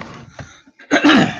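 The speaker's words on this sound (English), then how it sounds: "I gotta clear my throat" Brief throat clearing from a person pausing mid-sentence while commenting on a World of Tanks game, a short rough burst after some faint quieter sounds.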